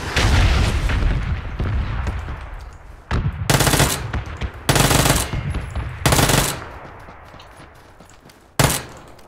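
Loud video game shootout with machine gun bursts and heavy booming shots, several separate volleys in quick succession over a rumbling battle bed, fading toward the end with one last sharp blast.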